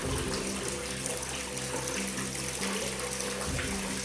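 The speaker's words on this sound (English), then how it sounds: "So I can adjust the water speed by turning this." Water flows steadily from a valve in a hydroponic growing system, a continuous close rushing and splashing with a pump-like hum underneath, its flow adjusted by turning the valve.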